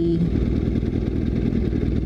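A clean black Honda CBR sport bike passes on a highway, its mid-pitched engine roaring loud and steady throughout a short stretch, with no voices.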